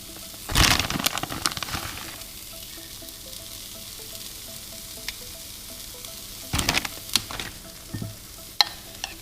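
Cheese sizzling in a hot chaffle maker for ricotta and ground beef keto chaffles, with two short bursts of loud frying crackle over a quiet background and some faint clicks between them.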